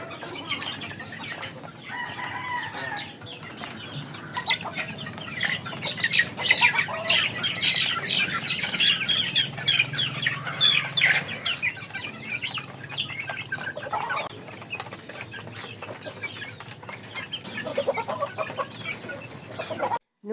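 Chicks crowd together at a single feeder, giving steady overlapping cheeps and clucks that run through the whole stretch, with occasional wing flaps and crowing-like calls from older fowl nearby.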